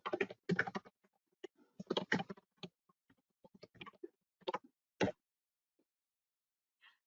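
Typing on a computer keyboard, close and quiet: irregular bursts of key clicks with short pauses, ending in a firm final keystroke.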